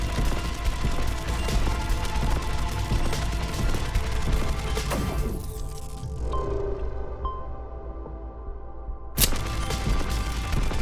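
Dense, continuous gunfire from the space shooter game Destroy the Moon, a steady rattling stream of bullets that keeps going throughout, with a brief sharp burst near the end.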